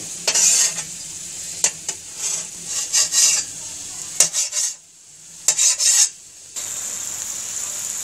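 Masala fries in a pan while a utensil stirs it in repeated scraping bursts over a steady sizzle, close and fairly loud, with short pauses between strokes.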